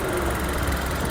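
Maruti Suzuki Baleno car engine pulling away, a steady mid-pitched hum with a low rumble, close and continuous, with no talk.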